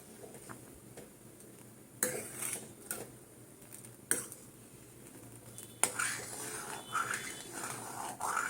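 Amul milk boiling in a pan and stirred steadily with a utensil for sandesh, with soft scraping and a few sharp clinks of metal against the pan over a low simmering background.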